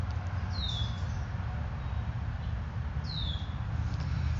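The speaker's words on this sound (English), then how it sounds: "see if you guys can hear that bird." A bird calls outdoors near a stream, two short descending chirps spaced a few seconds apart, fairly distant over a steady low rumble of ambient noise.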